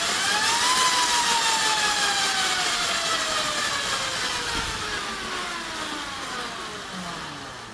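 A Huachi velo-scooter's electric motor whines up after pedalling, a loud rising electric hum with layered tones that climb in pitch, then tapers and fades slightly as the speed levels off.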